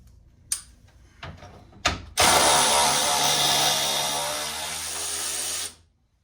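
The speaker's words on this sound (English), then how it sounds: "So what we're gonna do is take out all the bolts. I'm gonna start with this one right here." Power ratchet or driver removing a headlight bolt on a 1998–2000 Toyota Corolla: a few clicks and taps, then a loud continuous whirring burst of about three seconds that stops abruptly.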